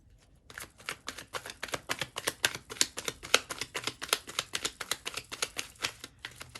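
Tarot cards being shuffled in a rapid, even run of crisp riffling clicks, close and fairly quiet, lasting several seconds.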